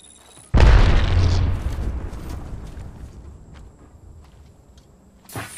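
Grenade blast in Apex Legends, a single loud close boom that rolls off into a long fading rumble, followed by faint clicks and a sharp burst at the end.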